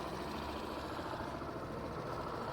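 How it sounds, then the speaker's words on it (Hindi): A Suzuki Avenis scooter idles close by with a steady, even engine drone and exhaust note, continuous and unbroken, with no talk over it. "आइडियल कंडीशन पर इंजन साउंड, एग्जॉस्ट नोट।"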